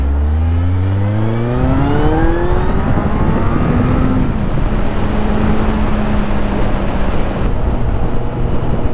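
A motorcycle engine runs steadily and loud, rising in pitch as it accelerates, then settling into a constant drone with wind roar.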